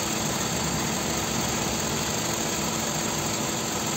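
Car engine idling while its radiator coolant is bled at about 47 to 49 degrees Celsius, a steady, even mechanical drone with faint vibration, constant and close, with no talk.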